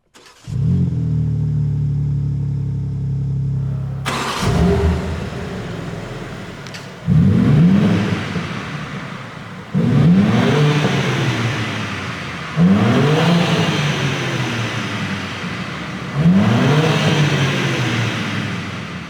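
A 2023 BMW M3 Touring Competition xDrive engine cranks and starts with a roar, settles to idle, then is revved hard five times in a steady rhythm, close and loud.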